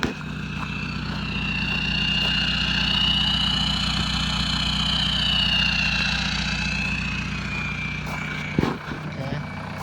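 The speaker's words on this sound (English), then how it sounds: "And what you hear there is a straight pipe off the turbo." A 1996 VW Passat TDI AFN diesel wagon with a straight pipe off the turbo idles steadily and fairly loud for the whole stretch, with a whistling tone drifting above the low rumble.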